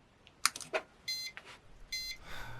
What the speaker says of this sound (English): And it gives 3 beeps